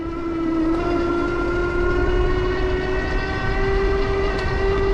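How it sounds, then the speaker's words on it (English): An Electric Bike Company Model S electric cruiser accelerates at full throttle, its motor giving a steady, close whine that climbs slightly in pitch over constant wind rush, with no talking. "grip and rip the throttle, here we go. So some very apparent acceleration right away."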